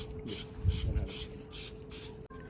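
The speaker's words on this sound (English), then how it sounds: "So just spray the adhesive all throughout." Spray adhesive hisses from a can onto the headliner of a 2004-2007 Subaru WRX in several short, evenly spaced bursts, close and crisp, with a slightly louder rustle near the start.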